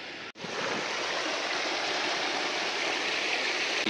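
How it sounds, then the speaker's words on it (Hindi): Waterfall behind India Gate in Delhi: a loud, steady broadband rush of falling water, close and continuous after a brief gap near the start, with no talk. "यहाँ लग रहा है वाटरफॉल, बढ़िया बढ़िया।"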